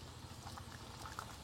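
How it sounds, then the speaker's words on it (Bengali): A vegetable curry simmers in a pot on a clay stove fire, giving a soft, continuous bubbling and gurgling that stays fairly faint, with no voices. "আর এখন তরকারি ফুটছে"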